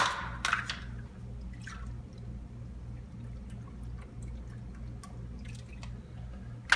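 Low-sodium vegetable broth is poured into a soup pot, heard as a soft liquid splash and drips over a steady low background hum.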